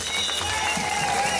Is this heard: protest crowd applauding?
yes